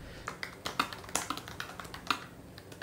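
Fingers type on a wireless keyboard with roomy, deep-travel keys, giving quiet, irregular clicks and taps at a modest pace with no talking.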